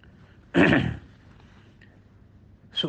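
A man coughs once, a short harsh burst close to the mic, followed by quiet and the start of another cough at the end.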